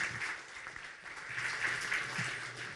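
Audience applause at a press conference fills the room as a steady, dense wash of clapping that swells slightly midway and carries on without pause.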